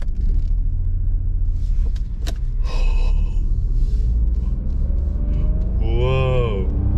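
A Ford Fiesta pulls away in first gear, its engine a loud, steady rumble heard from inside the cabin, with a brief gasp and a rising whine toward the end.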